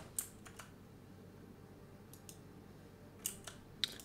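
Mouse clicks during a session of the strategy game Europa Universalis IV, a few sharp, quiet taps scattered irregularly over low background hiss, with no talking.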